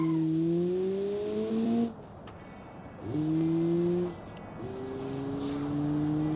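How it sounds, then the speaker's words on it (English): A base model car engine in the BeamNG Drive driving game revs in repeated rising bursts, each a tonal drone climbing in pitch, separated by short drops to a quieter idle, with no talking. "We are testing out our base model car, which doesn't sound very good at all."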